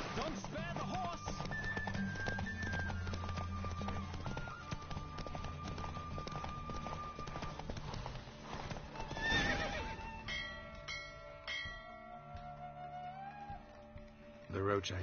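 Galloping hoofbeats mixed with a horse's whinny during a horse race in The Witcher 3, set against a continuous backdrop of music and game sounds, with voices heard.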